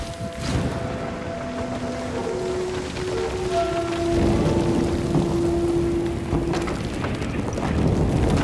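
Steady rain falls throughout a rainy outdoor scene in the samurai video game Trek to Yomi, a continuous broadband hiss with some low wind-like rumble and faint tonal game sounds drifting underneath.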